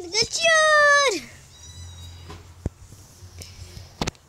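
A cat gives one loud, close, drawn-out meow at the start. Faint rustles and a few sharp knocks follow in a quiet room.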